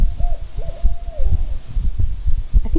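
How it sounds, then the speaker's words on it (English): A barred owl hoots from the woods at night, a short low call sequence at moderate distance, heard alongside soft rustling and low thumping noise nearby. "I think it's a barred owl."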